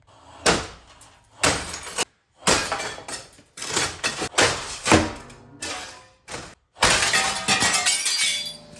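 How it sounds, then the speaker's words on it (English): Window glass smashed out of a shop wall with 10-foot boards: repeated loud crashes and shattering bursts over several seconds, each strike followed by scattering, tinkling shards, with short pauses between blows. "the only thing left to do is to finish smashing out my window with something"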